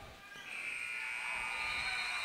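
A long, steady electronic buzzer sounds at the end of a high school basketball game between Sacred Heart and Nemo Vista, holding a constant tone over crowd noise and voices in the gym.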